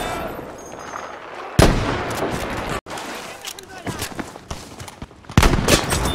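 Several sharp, loud sniper rifle cracks in Battlefield 5, irregularly spaced with distinct shots early and late and smaller reports between, over a busy battlefield bed with voices talking.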